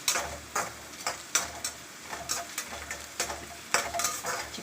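Onions frying in a pan for a chicken dish, a steady sizzle broken by repeated scraping strokes of a spoon stirring against the pan in an uneven rhythm, close and clear with no talking.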